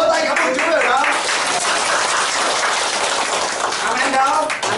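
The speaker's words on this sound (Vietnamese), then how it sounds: "Hãy vỗ tay cảm ơn Chúa rồi đó." A church congregation at a Vietnamese worship service breaks into sustained applause, a dense wash of clapping filling the room for several seconds, loud and even with voices mixed in.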